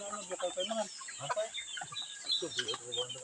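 Gamefowl roosters cluck and call at a farm in Benguet, a busy mix of bird sounds at moderate distance with people talking in the background.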